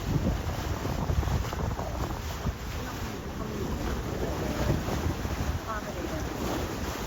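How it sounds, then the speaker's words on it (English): A sailboat under way in the open sea of the British Virgin Islands, with steady wind buffeting the microphone and a constant rush of water along the hull, loud and continuous throughout with no clear talk. "All right, we're sailing."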